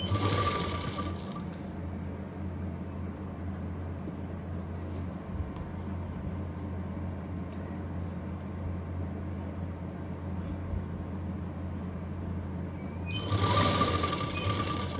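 An electric sewing machine runs continuously stitching lace onto a salwar neckline, a steady close mechanical whir with a sharper burst as it speeds up at the very end; no talk.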